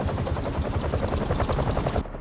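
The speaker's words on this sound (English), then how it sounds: "a helicopter's blades." Fast rhythmic thudding of helicopter rotor blades in Marvel's Spider-Man 2, loud and close, chopping steadily throughout.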